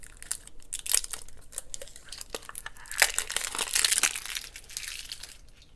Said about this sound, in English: crunching that paper because I love that sound